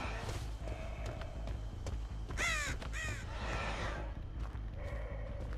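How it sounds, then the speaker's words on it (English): A crow caws in the video game Dead by Daylight, two or three raspy calls in the middle over a low, continuous ambient drone, with no talking. "I saw a crow land over here."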